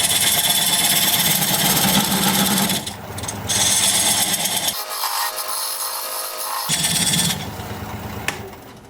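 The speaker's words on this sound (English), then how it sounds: "Now I'm going to use this diamond point tool to square up the sides of the tenon." A diamond point tool squares up a tenon on sycamore spinning on a wood lathe, giving a steady, loud scraping hiss with a brief break in the low hum midway.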